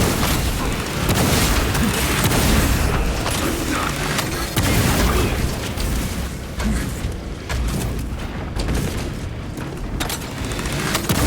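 A frag grenade goes off amid the clatter of Warhammer 40k Space Marine 2 combat, dense booms and mechanical rattles mixed with bursts of gunfire, loud and continuous.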